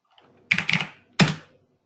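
Two short bursts of typing on a computer keyboard, a quick cluster of keystrokes followed by a single firmer key press, close and clear against silence.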